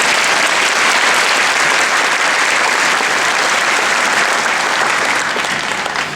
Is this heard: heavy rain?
no